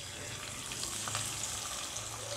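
Marinated chicken pieces seasoned with chilli powder and lemon frying lightly in oil for a chicken roast, a soft, even sizzle throughout with faint utensil ticks, quiet and without talk.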